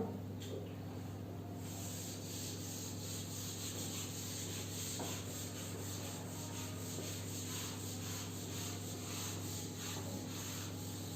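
Writing is rubbed out on a board with soft, repeated scrubbing strokes, faint and rhythmic, set over a low steady hum of room noise for around eleven seconds.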